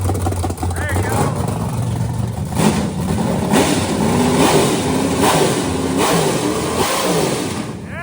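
A cheap challenge car's engine revs repeatedly on the throttle in rough, loud surges close by, while voices talk over it.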